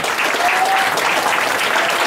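Audience applause for a children's school musical, a dense, steady wash of many hands clapping throughout, with a faint whistle-like tone rising briefly near the start.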